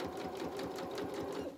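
Sewing machine running steadily at close range while stitching a faced lining into a dress, a continuous whirring drone with a fast regular needle rhythm, easing off at the very end.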